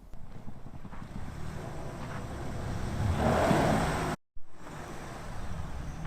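A Ford Bronco drives through snow in two-wheel drive, a steady engine and tire rumble with wind buffeting the microphone, rising slightly midway before a brief dropout, with no talk.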